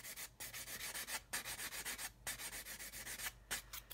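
Short repeated rasping strokes of a sanding stick on the aft fuselage of a 1/72 Italeri/AMT B-52 plastic model, quick and even in rhythm with brief pauses, close and quiet.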